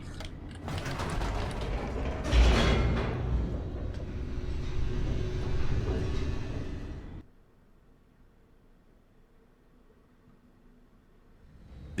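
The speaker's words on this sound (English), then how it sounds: "The elevator raced downward, plummeting towards an unknown fate." An elevator descending in The Stanley Parable: a loud mechanical rumble with creaking, grinding gear noise that runs for several seconds, then cuts off abruptly, leaving a low quiet hum.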